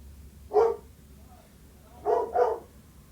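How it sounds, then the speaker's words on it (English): A pet dog barks at home, one sharp bark followed a moment later by two quick barks, fairly close and loud over a quiet background. "I apologize for the barking, by the way"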